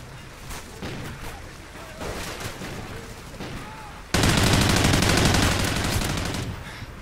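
Gunfire from a first-person shooter, dense rapid bursts of shots: a lighter run of scattered shots under faint voices, then a sudden loud sustained volley from about four seconds on, close and heavy.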